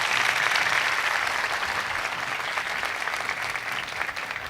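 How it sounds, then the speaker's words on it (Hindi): A church congregation at a Palm Sunday service bursts into strong, sustained applause, an even roar of many hands that eases only slightly over several seconds. "आओ अपने बादशाह के लिए ज़ोरदार तालियां बजाएं।"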